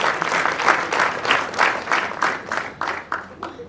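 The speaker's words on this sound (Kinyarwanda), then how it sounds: "dukoma amashyi menshi." Wedding guests applauding, a burst of many hands clapping together in quick rhythmic waves that taper off toward the end, fairly close.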